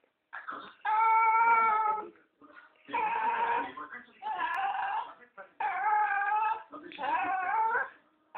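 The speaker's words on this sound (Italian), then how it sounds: "Il cane che parla" A dog makes long, whining, almost speech-like vocalizations in several drawn-out bursts, with short pauses between them.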